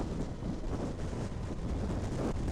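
Heavy wind buffeting the microphone while riding a 20-year-old Yamaha FZ6 S1 motorcycle, a loud continuous roaring rush with gusty fluctuations and no clear engine note.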